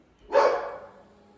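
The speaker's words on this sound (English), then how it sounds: "we got an annoying dog tonight" A single sharp dog bark, close and fairly loud, rings out once with a short fading tail in a quiet indoor room.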